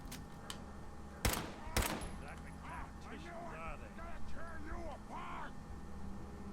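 Two sharp gunshots ring out in the video game Fallout 4, followed by other game sounds. People talk over the game throughout.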